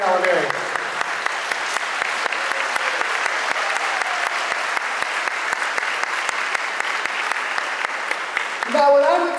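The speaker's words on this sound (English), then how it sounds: "How about a round of applause for Renee and Rick Oliveri?" Audience applause at a school convocation, a large crowd clapping steadily and loudly for several seconds before a voice starts speaking at the end.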